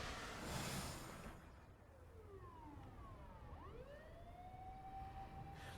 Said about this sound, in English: could hear ambulance and police sirens wailing on the main road